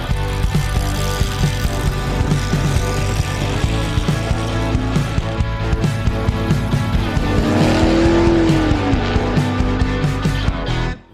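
A Maserati drives toward a drag strip, its engine droning steadily up close with rising and falling revs and a brief whine near the end, with no talking.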